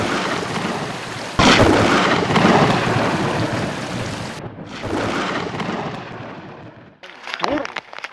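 Thunder rumbles and cracks loudly during a thunderstorm, with a sudden sharp clap followed by long rolling roars over rain, then a fade and a fresh burst.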